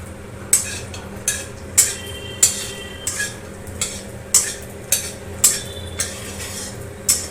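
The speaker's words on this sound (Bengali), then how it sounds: "তেলটা গরম হয়ে গেছে, এর মধ্যে বড়িগুলো দিয়ে দেবো। হালকা লাল লাল করে ভেজে নেব।" Lentil dumplings (bori) fried in hot oil for a bottle gourd dish, with repeated sharp clinks of a utensil against the pan roughly every half second over a faint sizzle, close up.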